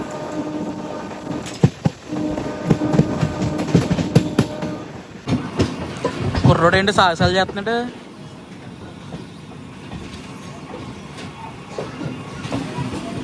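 An Anantapur to KSR Bengaluru MEMU passenger train runs with steady rumble and rhythmic clatter, someone talking over it and a loud rising horn-like wail in the middle.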